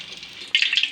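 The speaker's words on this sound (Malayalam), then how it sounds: "ഇനി നമുക്കിത് ചൂടായ എണ്ണയിലേക്ക് ഇട്ട് കൊടുക്കാം." Breaded banana flower cutlets dropped into hot oil, a sudden loud hiss and sizzle bursting in halfway through over a quieter steady fizz, crackling on close by.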